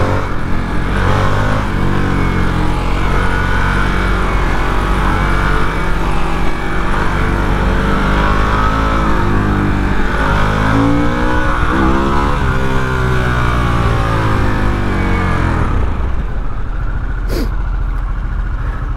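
A Harley-Davidson Sportster S motorcycle roars loud and close throughout a test ride, its engine rising and falling through accelerations and gear changes before the drone fades at the end.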